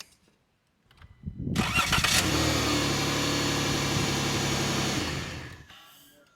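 A van engine cranks briefly on a lithium jump starter, catches and runs loud and steady for about four seconds, then is shut off and dies away.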